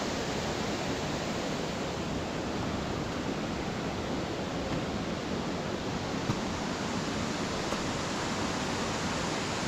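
Stichill waterfall pours in a steady, dense roar of falling water, close and continuous with no pauses and no voices.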